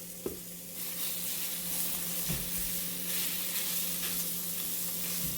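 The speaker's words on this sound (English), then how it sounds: "I'm just gonna cook the sausage" Sausage frying and browning in a pan, a steady close sizzle with a few scraping stirs and taps, with no talking.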